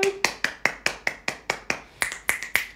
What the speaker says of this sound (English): Snaps and claps.